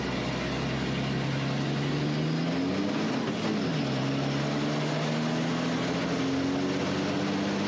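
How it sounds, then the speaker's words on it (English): Racing truck engine of roughly 1,200 brake horsepower revving hard out of a hairpin at the Zolder circuit in qualifying, a loud continuous drone whose pitch rises, dips, then climbs again as the tyres spin on the exit. "Listen for the wheel spin."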